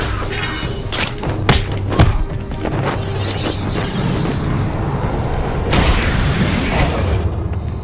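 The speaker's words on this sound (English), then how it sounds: "Explosions. That's what games are really about." Explosions and heavy thuds in Batman: Arkham Asylum, a few sharp booms in the first two seconds followed by a dense rumbling stretch and a second burst of blasts near the end, all loud with no talking.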